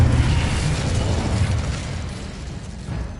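A booming fire-spell blast from the Incendio charm in Hogwarts Legacy, a dense low-heavy burst that rumbles loud and sustained over about three seconds before easing slightly.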